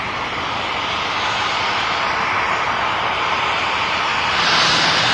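A private jet's engines roar loud and close in a steady, broadband rush that holds without a break and swells slightly toward the end.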